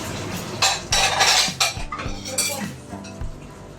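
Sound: washing dishes by hand

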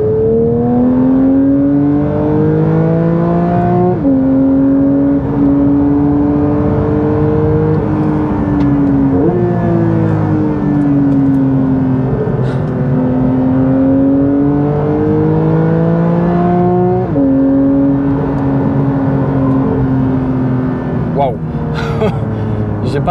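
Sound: Porsche 911 Sport Classic driving in sport mode

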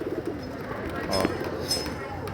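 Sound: pigeons cooing after release from loft

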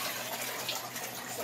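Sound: water draining from rinsed red beans

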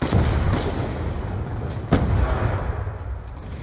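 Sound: Peacekeeper gun firing in a video game

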